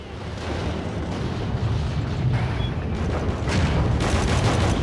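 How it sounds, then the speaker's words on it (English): Tanks trade fire with panzers on the Walcheren battlefield in Call of Duty: Roads to Victory on PSP: continuous rumbling explosions and artillery booms, with distant gunfire layered throughout and no voices. "Our tanks are going at it with some panzers out there"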